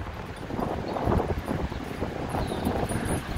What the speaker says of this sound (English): Boy, the wind's really whipping.